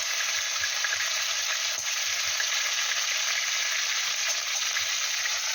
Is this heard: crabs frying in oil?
yes